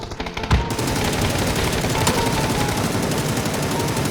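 Rapid automatic gunfire in PUBG (Battlegrounds), a dense continuous burst of shots running loud and steady after a brief softer start.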